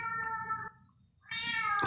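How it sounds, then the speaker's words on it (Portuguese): A cat meows twice up close, each cry a clear, drawn-out tone separated by a short pause. "Tem um gato cantando aqui."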